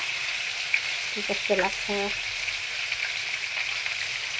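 Pork frying in a pan sizzles in a loud, steady hiss close by, continuous throughout, with a brief spoken remark and faint stirring in the middle.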